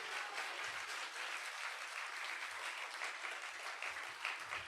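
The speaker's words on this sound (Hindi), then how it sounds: "जोरदार तालियां जिंदा खुदा के कलाम के लिए।" A church congregation gives sustained, even applause, a dense wash of many hands clapping steadily at a moderate distance with no pause.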